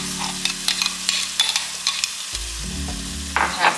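Red onions hitting a hot pot for jerk chicken soup, a steady frying sizzle with light stirring clicks and scrapes throughout, close and moderately loud with no talk.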